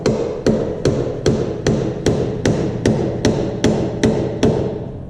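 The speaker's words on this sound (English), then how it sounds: "Here's my dead blow hammer" A dead blow hammer strikes a metal clamp in a steady series of about thirteen sharp, loud, evenly spaced blows, close up, with no talking.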